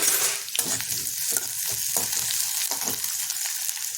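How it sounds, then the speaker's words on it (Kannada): Lengthwise-sliced onions fry in a pan with a constant loud sizzle while a spatula stirs them in quick, regular scraping strokes, no voices. "ಈರುಳ್ಳಿ ಹಾಕಿ ಫ್ರೈ ಮಾಡ್ಕೊಳ್ತೀನಿ ಮಗ್ಗಿಸ್ಕೊಳ್ತೀನಿ ಚೆನ್ನಾಗಿ"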